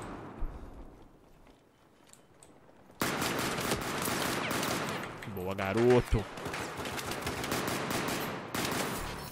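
Rapid bursts of pistol fire in the World War I shooter Battlefield 1, with sharp shots packed close together and running loud through most of the stretch, while someone speaks over them.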